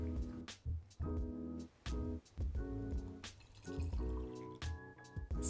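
Hot milk poured into mugs of whipped coffee, heard as a series of close liquid splashes and pours in several separate bursts with short pauses between.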